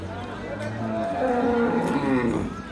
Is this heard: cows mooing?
yes